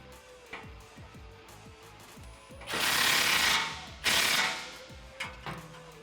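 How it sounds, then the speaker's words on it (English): A 16mm socket ratchet tightens a bolt on a 2016-2019 Toyota Tacoma bull bar mount, with quick rhythmic clicking runs close by, interrupted by two louder bursts of rushing noise. "Using a 16mm socket and wrench, tighten this down"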